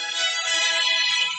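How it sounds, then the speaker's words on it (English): A phone ringtone from an incoming call, a bright, sustained electronic tone rich in harmonics that plays steadily and loudly for over a second with no pauses and no talking. "I just got interrupted by a phone call."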